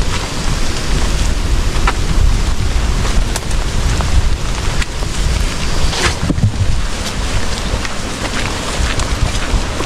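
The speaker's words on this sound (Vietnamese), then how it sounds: "Gió thổi rất là ghê." Strong typhoon wind buffets the microphone in a dense, roaring rush with heavy rain, loud and unbroken, with occasional gusty thumps and no talking.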